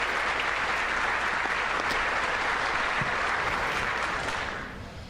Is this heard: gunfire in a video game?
no